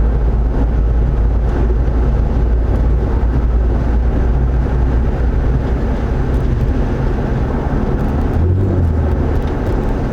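Road noise inside a car cabin before sound dampening, a loud, constant low-frequency roar and rumble from tires and road that persists throughout while driving.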